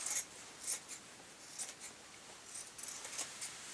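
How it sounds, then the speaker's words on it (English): Scissors trim fabric while a shabby chic tablet case is being sewn. Close, soft, crisp snips repeat irregularly at low volume, with nothing else heard. "so I'll just trim that with scissors"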